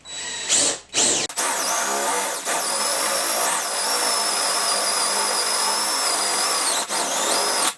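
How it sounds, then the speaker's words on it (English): A power drill bores through a surface to route solar panel wiring, starting with a couple of short bursts, then a sustained loud whine held close for several seconds, with no voices. "I'm going to drill through here"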